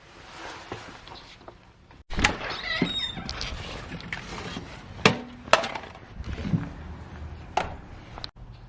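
A garage door opens with a sudden clunk, followed by a steady rattling, rolling rumble of panels and scattered knocks, fairly close and without talk.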